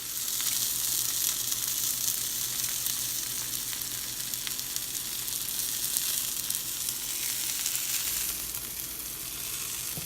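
Zucchini, other vegetables and fish sizzle steadily on a hot cooking surface, a dense continuous frying hiss that stays loud and even throughout with no talking.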